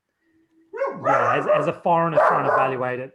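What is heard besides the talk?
dog barking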